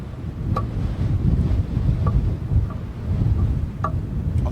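Chilly wind buffeting a microphone outdoors at a London Heathrow planespotting spot, a continuous low, rumbling roar that swells and dips with the gusts.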